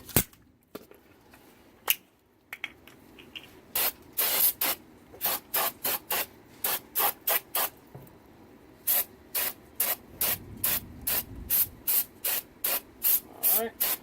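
Carburetor cleaner sprayed onto the front brake parts of a Ford F-150 Harley-Davidson supercharged truck, heard as a long run of short, sharp aerosol bursts in steady rhythm, close and loud after a few scattered knocks.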